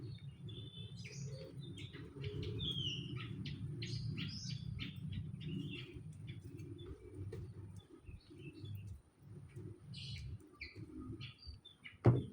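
Wild birds chirp and tweet in scattered bursts over a steady low rumble of background noise, fairly faint and distant, with no voices.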